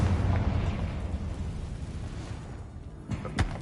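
A Confringo fire spell bursts in Hogwarts Legacy, a booming explosion with rumbling low end that trails off, followed by a couple of sharper pops near the end.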